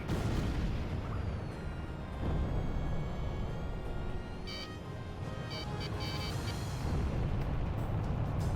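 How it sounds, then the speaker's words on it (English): Missile strikes and booming explosions from the flight combat video game Ace Combat 6 roll through dense aerial battle noise, with rumbling blasts and bursts over a steady engine roar. "Missile struck target."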